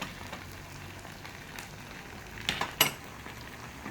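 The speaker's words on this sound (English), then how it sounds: "So once you can see, okay, the potatoes are browning nicely, we're gonna flip this over." A potato hashbrown fries in a pan with a soft, steady sizzle, broken near the end by a few sharp utensil clatters as it is flipped.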